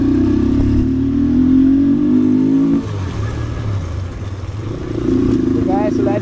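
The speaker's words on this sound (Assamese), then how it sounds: "বাইক এটা ষ্টাৰ্ট দিলে ময়ো ষ্টাৰ্ট দিওঁ আৰু যাওঁ ইয়াৰ পৰা" A motorcycle engine runs with a steady mid-pitched drone, cuts back, then rises again as another revs up nearby, with people talking during the stop on a ride toward Mechuka in Arunachal.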